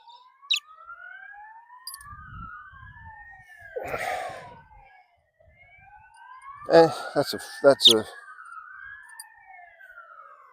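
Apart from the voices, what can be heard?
ambulance siren passing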